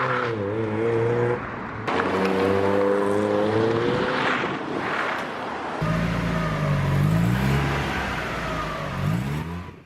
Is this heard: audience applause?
no